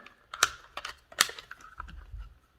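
A Tacrig Flex IWB/OWB holster mount snaps into a holster with a few close, sharp plastic clicks and small handling rattles.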